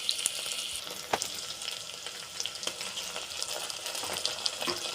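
Ginger garlic paste fries in a pan with a steady, close sizzle, punctuated by a few soft taps and stirring scrapes, no voices over it.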